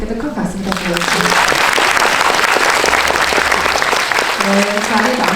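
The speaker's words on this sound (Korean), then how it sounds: "큰 박수 부탁드립니다" A cinema audience at a film talk event breaks into loud, sustained applause right after a voice on a microphone, dense clapping filling the hall before the speaking voice returns near the end.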